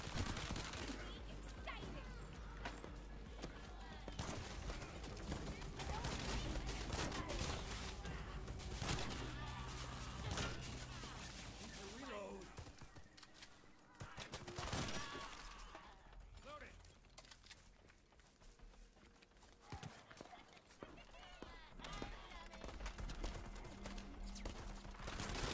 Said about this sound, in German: Ja, ist ja eine Schrotflinte, ne? Deswegen, Big Boom.